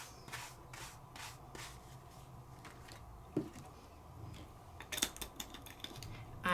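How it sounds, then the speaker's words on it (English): An inexpensive brush sweeps loose glitter off a crafted paper piece in soft, brisk, scratchy strokes that come in an uneven rhythm, closing with a few sharper taps. No voices are present. "And then I can take my inexpensive brush, brush it off."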